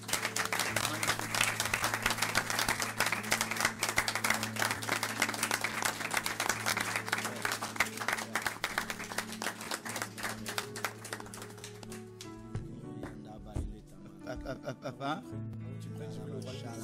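A church congregation applauds together, a dense, sustained clapping that fills the room for about twelve seconds before fading. A voice and low organ-like tones continue underneath and after.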